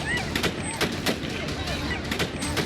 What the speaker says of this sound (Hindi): इतनी गोलियां चल रही हैं कि गिनना मुश्किल हो गया है।